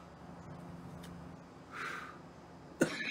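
A single short cough bursts out near the end, sharp and close, over a low steady background hum with faint road-traffic-like rumble.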